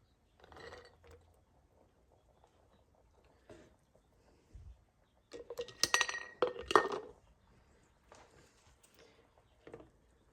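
A slotted spoon scoops ham and beans into canning jars for ham and bean soup. Scattered clinks of metal on glass come in short bursts with quiet gaps, louder in the middle.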